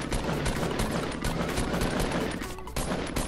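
Close, continuous automatic gunfire rattles in a Fortnite Battle Royale fight, shots stacking rapidly and loudly for a few seconds without pause.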